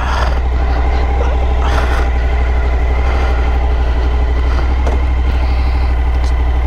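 A Suzuki V-Strom 1050 motorcycle with a 1000cc engine idles steadily and close by, a low continuous rumble with no talk over it.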